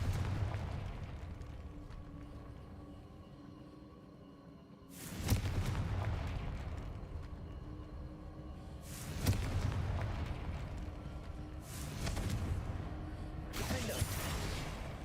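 Confringo blasting spells detonate in Hogwarts Legacy, three heavy booming explosions a few seconds apart, each a sharp loud burst trailing into a rumbling decay over a constant low game ambience.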